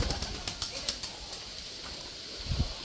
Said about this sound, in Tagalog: Ayan, maraming kalapati oh.